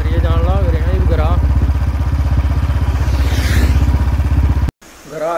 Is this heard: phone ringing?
no